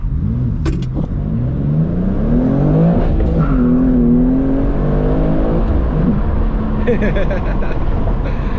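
A manual BMW M2 accelerates hard from a standstill to 60 mph, its engine note climbing loud and close through the gears inside the cabin, with a brief squeal and a short voice near the end.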